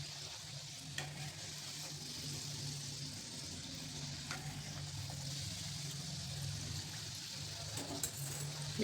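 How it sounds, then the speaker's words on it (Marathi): Shegaon-style kachori deep-frying in hot oil over a low flame, a continuous soft sizzle and bubbling with occasional small pops, steady throughout with no voices. "तर अशाच पद्धतीने आपल्याला सर्व कचोरी तळून घ्यायचे"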